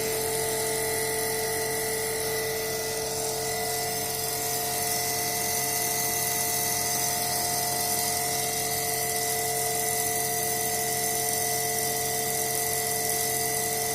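A DC shunt machine spins at about 2695 RPM with no load, giving a steady, continuous electric motor whine with fixed tonal hums that hold at an even level throughout.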